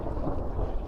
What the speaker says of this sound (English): There's some thunder right there.